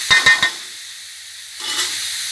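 Pickled bamboo shoots being stir-fried dry in a pan, with a few quick scraping stirs at the start, then a soft sizzling hiss that swells again near the end.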